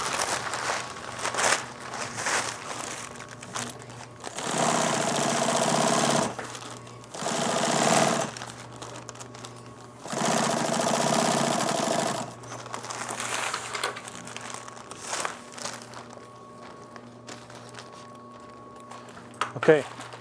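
Several bursts of sewing machine stitching on a Tyvek gown, each a few seconds long, separated by quieter handling of the material. A person speaks in the gaps.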